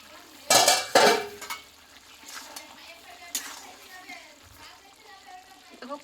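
A lid lifted off a cooking pot of vegetarian pumpkin and potato curry, two sharp metallic clatters close by, then faint bubbling and light clinks.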